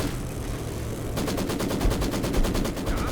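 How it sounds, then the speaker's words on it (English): Rapid automatic fire in the World War II strategy game Company of Heroes 2, starting suddenly after a second of background rumble and continuing as a fast steady rattle of shots to the end. "An artillery barrage in action"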